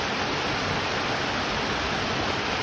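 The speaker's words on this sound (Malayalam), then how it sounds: "ഇതിൽ നിന്ന് വെള്ളം വളരെ സ്ലോയിൽ ഒഴുകി പോകുന്ന ഒരു പാട്ടാണ്." Water flows in a forest stream as an even, continuous rushing wash that stays steady and fairly loud throughout, with no voices.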